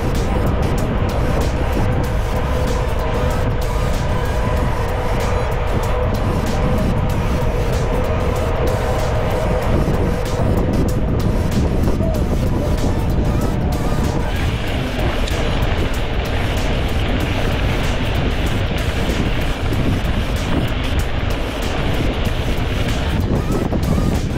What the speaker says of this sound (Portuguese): O vento tá na lateral!